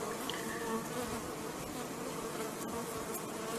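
Honeybees buzz steadily during a hive inspection, a dense, continuous close hum of many insects with no voices over it.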